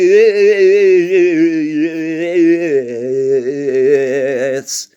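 A voice stretches out a slurred, wobbling hum that dips lower partway through, imitating distorted warped playback from a faulty cinema projector, then stops abruptly.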